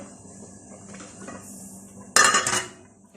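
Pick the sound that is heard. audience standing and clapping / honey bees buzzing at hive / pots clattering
pots clattering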